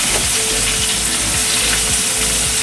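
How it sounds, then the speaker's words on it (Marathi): Chopped onion sizzling loudly in hot oil for chana masala, a dense, continuous close frying hiss with faint rhythmic stirring thumps underneath. "आता कांदा टाकते हे बघा कांदा टाकते"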